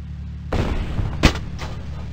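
A tank cannon fires in the Across the Rhine video game: a loud single blast with a rumbling tail, followed by a sharp crack and a fainter later report over a low steady hum.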